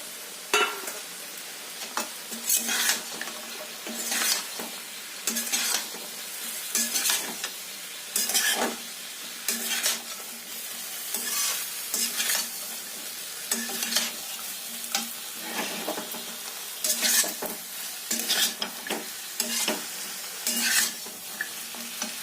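Fried vegetables for shukto (bori, bitter gourd, eggplant, sweet potato, green banana, drumstick, papaya and potato) being stirred in a pan, a steady soft sizzle broken by repeated scraping strokes of the spatula, close and alone.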